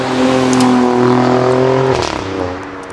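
A 2017 Alfa Romeo Giulia Quadrifoglio's factory valved exhaust revs loudly above 3,000 RPM with a steady raspy drone, then the pitch drops sharply as the engine falls off the rev.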